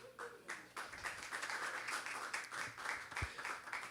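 Small audience applauding artistic director Danilo Perez, faint, fairly distant clapping with uneven bursts and a thump partway through.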